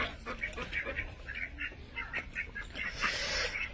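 Domestic ducks fly in from a village pond on a cold, foggy day, quacking in quick, repeated calls close by while a voice talks over them.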